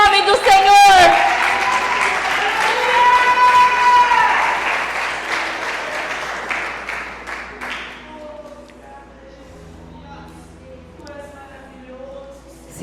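A church congregation breaks into applause mixed with voices, loud at first and then thinning and fading over several seconds as a low organ-like tone lingers beneath.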